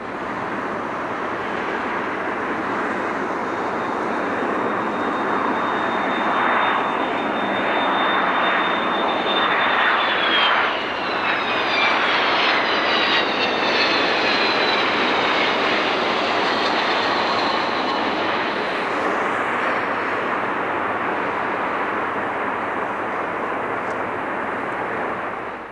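Boeing 727 trijet airliner engines roar steadily and loudly for the whole stretch, with a rising whine sweeping downward partway through as the jet passes, a broad continuous rush with no talk.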